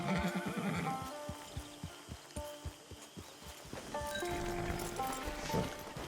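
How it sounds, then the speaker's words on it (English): A horse in Red Dead Redemption 2 whinnies loudly and nearby at the start, then hooves clip-clop in a steady walk with rustling ambience, followed by snorts and another softer neigh. "Get your horse."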